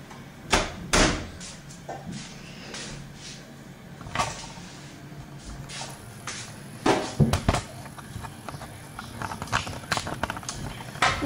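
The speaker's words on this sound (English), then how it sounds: "let's shut the door and get rid of them." A Beko condenser dryer door swings shut with a solid thud among several knocks and clatters of handling, close by in a domestic room with no talking.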